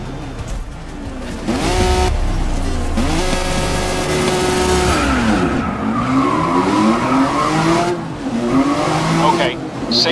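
Race cars in the video game Grid 2019 line up and launch on a wet track. Engines rev loudly and rise through their gears in repeated sweeping whines, with tyre noise beneath.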